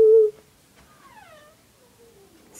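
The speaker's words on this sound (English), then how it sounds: "Cats in here." Indoors during a room tour, a cat gives two faint drawn-out meows, one rising and falling and a softer one after, following a short loud thump.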